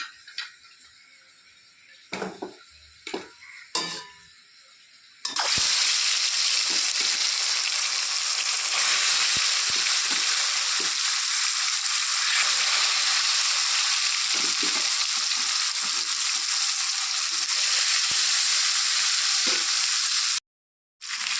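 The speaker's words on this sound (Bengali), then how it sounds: "তেল গরম হয়ে গেছে এখন তেলের মধ্যে এক এক করে মাছগুলো ছেড়ে দেবো" A few soft clinks, then a sudden loud, steady sizzle of fish pieces hitting hot oil that keeps crackling evenly for about fifteen seconds before cutting off.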